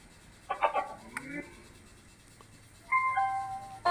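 A repaired music box plays after its batteries are replaced, giving a few short bursts of bright, tinkling electronic melody with pauses between them. The sound is fairly faint and close, and no one speaks.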